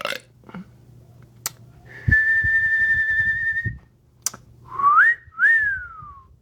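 A person whistles one loud, steady sustained note, then two short rising whistles after a brief gap, with a few faint clicks and low background noise between.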